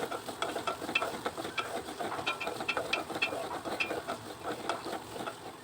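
Onions fry in hot oil with whole spices while being stirred in a pan, a steady low sizzle broken by frequent scraping strokes of the spatula.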